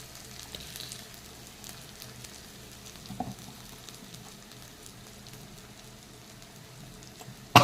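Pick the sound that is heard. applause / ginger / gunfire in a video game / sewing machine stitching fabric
ginger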